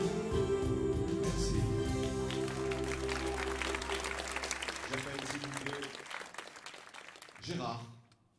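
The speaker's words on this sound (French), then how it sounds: "Isabelle, s'il vous plaît, on les applaudit." An audience applauds at a French singer's farewell recital in Vedène, a dense sustained clapping that runs under lingering held music and fades out near the end.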